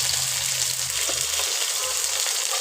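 Turmeric, chilli powder and salt fry in hot oil in a pan for a potato and pointed gourd curry, giving a steady close sizzle with no talking.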